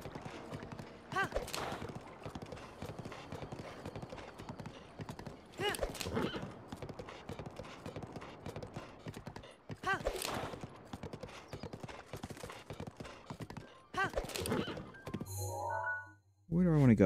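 Horse hooves clip-clop steadily while riding in Zelda: Breath of the Wild, with occasional whinnies and louder bursts of movement, under game music and ambience, ending in a sharp menu-like tone.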